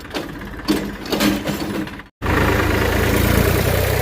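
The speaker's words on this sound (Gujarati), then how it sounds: "બહુ પણ હાલે હો ટ્રેક્ટર" A steady, loud engine drone runs continuously after a brief gap, with mechanical rattling earlier; sounds like a tractor engine chugging nearby.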